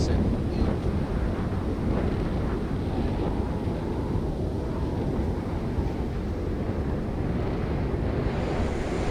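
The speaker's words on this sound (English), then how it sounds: "So it's a very windy, blustery day." Loud, gusty wind from Storm Deborah in Oxfordshire buffeting the microphone in a constant rumbling roar, with no clear voices, steady for several seconds.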